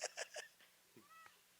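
A house cat meows right beside a podcast microphone, several short, bright meows in quick succession followed by softer, scattered cries and faint bumps, with no talking.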